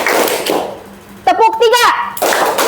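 A classroom of children claps hands on cue, sharp bursts of group clapping that open and close the moment, with an adult voice calling out a count in the quiet gap between them.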